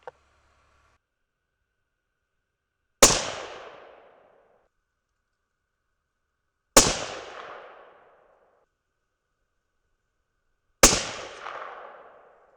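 Three loud 6.5 Creedmoor rifle shots from a Thompson Center Compass, fired outdoors several seconds apart, each a sharp crack followed by a rolling echo that fades before the next.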